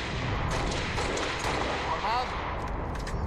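Sniper rifle shots in the Halo Master Chief video game, dense gunfire-like bursts and booms mixed into busy game audio, with a person talking over the action.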